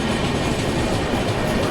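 An express train rolls steadily along the rails in India, a continuous close rumble with faint clickety-clack and no speech.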